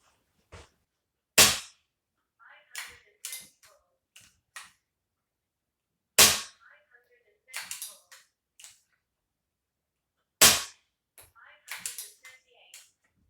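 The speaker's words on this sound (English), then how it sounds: "we'll be shooting the Barracuda 18s, 10 shots from the magazine" Sub-12 air rifle shooting Air Arms Barracuda 18 pellets from a ten-shot magazine through a chronograph, with three sharp close cracks spaced several seconds apart, each followed by mechanical clicks of cycling the action.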